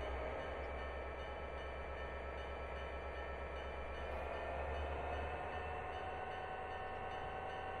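A heavy freight train in a train simulator game picks up speed near Cajon Pass, a steady low engine rumble and hum droning on without pause, with no voices over it.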